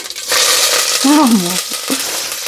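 Onions, green chillies and curry leaves fry in hot oil with a loud, dense sizzle, broken by a few brief scraping and clinking stirs.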